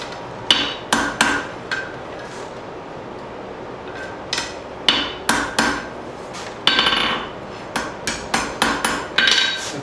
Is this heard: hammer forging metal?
yes